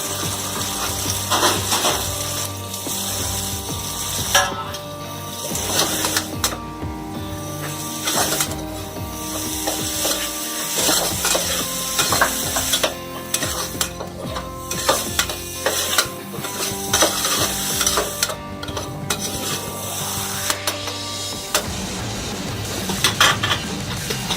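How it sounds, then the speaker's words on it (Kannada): Cauliflower florets and green peas frying in a pan for vegetable pulao, with steady stirring and scraping and a continuous sizzle throughout, close and fairly loud, no talking. "ಇದಾದ್ಮೇಲೆ ಫ್ಲವರ್ ಗೋಬಿ, ಬಟಾಣಿ ಎರಡು ಸೇರಿ ಹಾಕಿ ಇನ್ನು ಫ್ರೈ ಮಾಡಬೇಕು"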